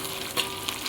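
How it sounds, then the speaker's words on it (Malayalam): Crushed ginger, garlic and coconut pieces fry in coconut oil for a chicken curry, giving a steady close sizzle with a few brief stirring scrapes and no talk. "ഇഞ്ചി വെളുത്തുള്ളി ചതച്ചത് തേങ്ങാക്കൊത്ത് ഇതെല്ലാം ഇട്ട് ഒന്ന് ചെറുതായിട്ടൊന്ന് മൂത്ത് വരുമ്പോഴത്തേക്കിന്"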